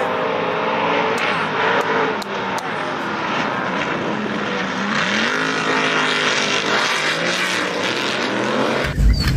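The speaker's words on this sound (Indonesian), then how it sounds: "di sini ada mobil off-road." An off-road car drives past with a loud, steady engine roar that holds throughout and cuts off abruptly at the end.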